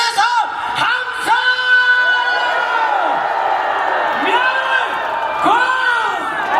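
A big outdoor rally crowd at Gumi Station, Korea, gathered against a presidential impeachment, lets out a loud, sustained roar of whoops and yells. Overlapping voices swell and rise in waves for several seconds.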